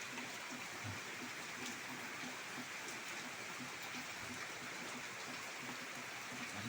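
Heavy rain falls on a 35-year-old house that leaks everywhere, heard as a faint, unbroken wash of water hiss with soft drips scattered through it and no talking.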